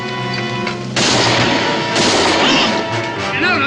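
Cannon fire in a frontier-era raid, with loud booming blasts striking around the one-second and two-second marks over a rumbling, chaotic battle din, with indistinct shouting faintly underneath.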